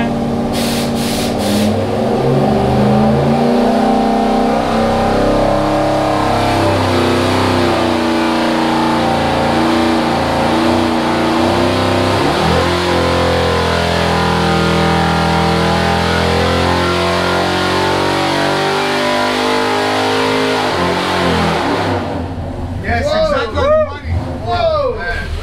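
Chevy big block engine running on a dyno, a loud, sustained roar with shifting harmonic tones as it revs and holds, then dropping off near the end as people talk and call out.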